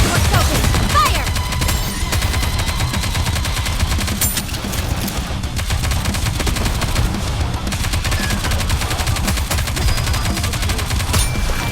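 Sustained automatic gunfire from the NIKKE: Goddess of Victory video game, a dense, loud, continuous barrage of rapid shots with layered impacts running for the whole stretch.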